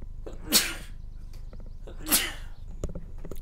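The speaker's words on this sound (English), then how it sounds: "Sorry, got a sneeze." Two sneezes, a sharp breathy burst followed about a second and a half later by another, near and fairly loud, with quiet background noise between.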